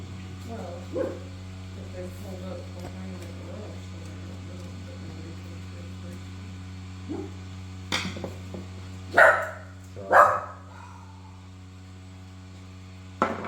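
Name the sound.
dog barking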